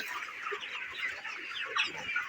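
Broiler chickens in a shed cluck and murmur in a soft, continuous chorus, several birds overlapping at a moderate distance and fairly quiet.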